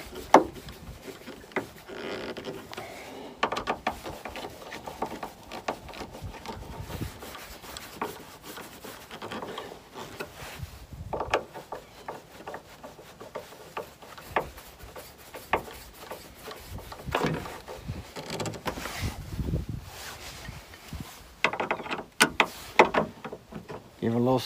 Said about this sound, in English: so now what we're going to do is just tighten it up.